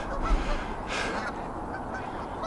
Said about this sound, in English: Check out these geese.